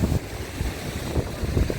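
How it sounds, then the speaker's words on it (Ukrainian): Sea surf on the Odesa shore in mid-October, with waves washing in as soft repeated low rushes under a constant wind noise, moderately close and without anyone speaking. "які хвилі"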